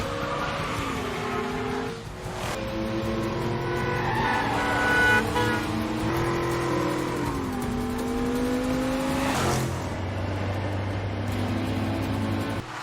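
A car chase from the action film Faster: engines rev and whine through shifting gears, with brief squeals and horn-like tones, loud and continuous throughout.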